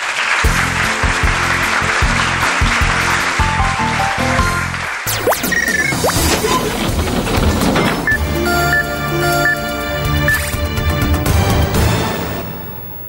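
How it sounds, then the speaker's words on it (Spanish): A brief burst of clapping gives way to loud music with drums and bright tones, the applause short and mostly buried. "así que un aplauso triple"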